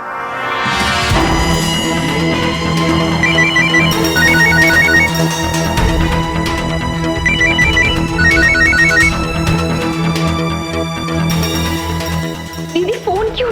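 A melodic phone ringtone plays loudly and continuously, its repeating chime pattern cycling over a busy music bed.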